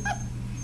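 A basset hound and beagle mix puppy lets out one brief, soft whimper close by, a short high whine that fades into quiet room noise.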